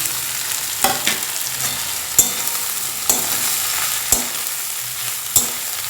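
Torn soya chunks sizzle in a pan while a utensil scrapes and stirs them in several sharp, irregular strokes, no voices.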